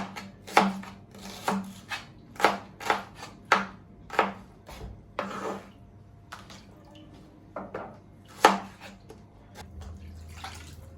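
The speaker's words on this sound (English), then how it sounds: "So we're going to chop the onions." Onions being chopped with a knife on a board for beef bone marrow soup, a steady series of crisp, close chops with brief pauses between strokes and no talk.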